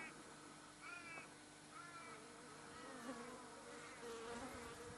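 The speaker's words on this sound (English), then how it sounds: "The crows in the background." Several harsh crow caws sound at a moderate distance over a steady outdoor hum, with a continuous insect-like buzz running through the background.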